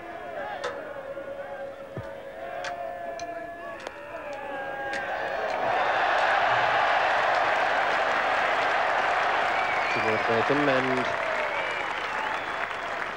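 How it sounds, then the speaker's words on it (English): Cricket crowd applauding at a 1981 Ashes Test match, broad applause swelling midway and holding steady, heard from a distance with a commentator's voice speaking briefly. "the crowd is now animated"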